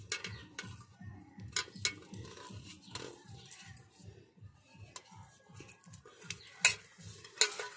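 Chicken biryani with rice, ghee and potatoes being stirred and mixed in a pot, giving a steady run of scraping and clinking strokes at a regular rhythm, close and moderately quiet, with no talk.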